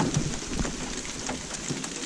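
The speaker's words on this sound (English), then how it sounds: "It's raining. It's raining. I love the rain." Rain falling steadily outdoors, a dense even hiss with scattered drops pattering on nearby surfaces, continuous and fairly close.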